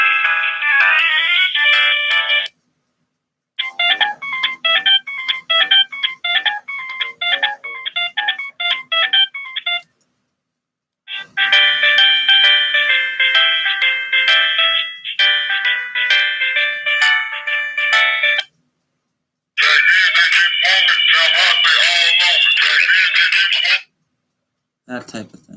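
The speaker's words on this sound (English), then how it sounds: "Some of the ringtones on here we're gonna go through." Several old-style monophonic Nokia phone ringtones play one after another, bright beeping melodies in quick runs of tones, separated by short silences.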